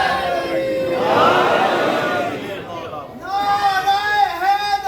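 A majlis congregation answers a preacher's slogan in a loud collective shout that swells and fades, then his voice resumes over the hall.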